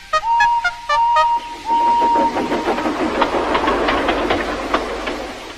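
Thomas the steam tank engine puffs along, opening with a few short whistle toots followed by a rapid, steady chuffing rhythm of exhaust beats that grows busier and louder as the engine pulls in.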